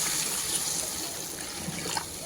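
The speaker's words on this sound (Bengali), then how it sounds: "এবার ঝোলের জন্য দিয়ে দেব পরিমাণ মতো জল।" Water is poured into a Bengali fish curry for the gravy, a continuous close splashing pour that holds steady for a couple of seconds.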